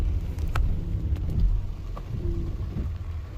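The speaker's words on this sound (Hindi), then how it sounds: "ये बारिश चल रही है सर दुबई में" Heavy rain falls in Dubai, heard from inside a ride-hailing car as a dense low rumble and patter, with traffic noise and occasional faint clicks.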